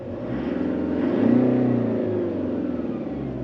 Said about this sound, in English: it sounds very much like a diesel engine.